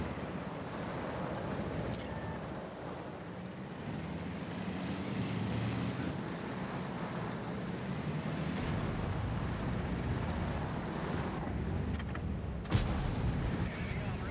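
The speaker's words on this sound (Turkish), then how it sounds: "Patlayıcı attı." A high-explosive tank shell fired in the World of Tanks video game, a single sharp blast near the end that cuts through a steady rumbling battle ambience.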